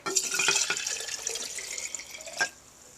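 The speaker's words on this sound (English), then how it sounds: "We're going to pour it, half of this content, into the empty jar." Liquid pouring into a glass container, a soft close splashing trickle that tapers off, with a small clink near the end.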